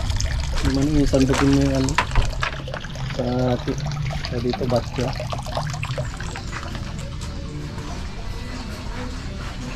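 Water drips and trickles in a house under construction with fresh plastering, a thin, steady pour running under close conversation in Filipino.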